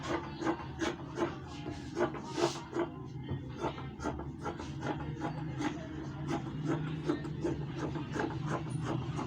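Scissors snip through fabric for an A-line dress in a steady, rhythmic series of soft, close cuts and rustles.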